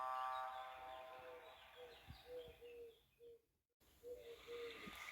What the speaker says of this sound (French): Tu entends? C'est des mouettes.